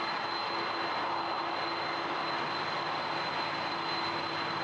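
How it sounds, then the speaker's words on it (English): Air Canada Airbus A330 heavy jet at Toronto Pearson airport, a continuous even engine roar with a faint steady whine, distant and fairly quiet. "This is an A330 going to Madrid, Air Canada."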